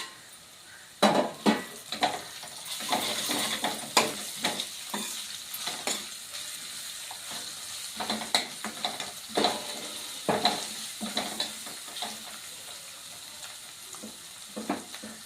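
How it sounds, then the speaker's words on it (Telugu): Ginger paste and garlic paste with curry leaves and bay leaf fry in hot oil for a dried shrimp fry, a steady close sizzle broken by repeated scraping stirs and clinks of a spoon against the pan. "ఇప్పుడు అల్లం పేస్టు ఇంకా వెల్లుల్లి పేస్ట్ వేసుకుంటున్నాను దాంతో పాటుగా కరివేపాకు ఇంకా బిర్యానీ ఆకు"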